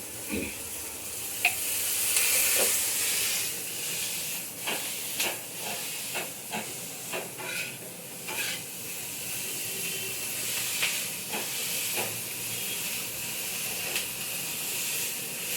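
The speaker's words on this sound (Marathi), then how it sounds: "तुम्ही भाजून बघा अशा माझ्यासारख्या मिरच्या" Green chillies fry in a small amount of ordinary oil, giving a steady hiss with intermittent sharp crackles and spatters, close and moderately loud, no voices.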